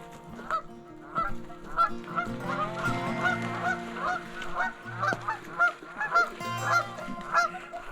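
Geese honk repeatedly by a river while being chased by dogs, a busy stream of nasal calls at moderate distance with overlapping squawks and irregular rhythm, no voices over them.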